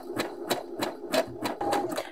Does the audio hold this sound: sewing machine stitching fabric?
yes